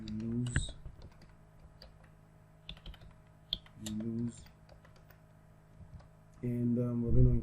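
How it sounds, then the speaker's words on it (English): Quick bursts of computer keyboard typing come in short clusters, near and fairly faint, with a person talking in between. "Now we're gonna type you lose,"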